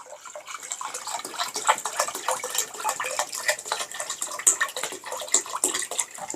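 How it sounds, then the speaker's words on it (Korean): Opened makgeolli pours into a separate container, a steady bubbling, splashing stream with small irregular gurgles, close and fairly loud, continuing without speech throughout. "개봉을 해서요, 따로서 부어 보겠습니다."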